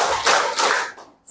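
An audience at a lecture on family life claps in a counted pattern: two rounds of group clapping, a short pause, then another burst starting up.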